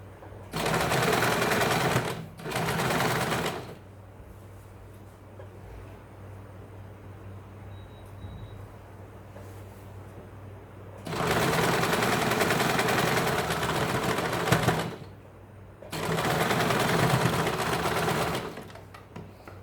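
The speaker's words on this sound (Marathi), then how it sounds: "इथे आपण साईडला शिलाई मारून घेणार आहोत" Sewing machine stitching the side seam of a blouse, running in steady bursts of a few seconds with quiet pauses between them, close and loud.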